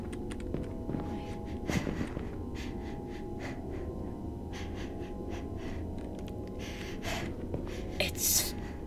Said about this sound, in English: It's breathing.